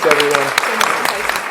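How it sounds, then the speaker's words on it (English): Applause from the audience at a comic art festival panel, a short burst of crowd clapping heard under a voice talking over it. "Can we have a round of applause?"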